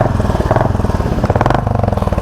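A Royal Enfield Bullet 350 single-cylinder motorcycle fires up and settles into a loud, close, rhythmic thumping idle, with a brief rise in revs midway and no speech.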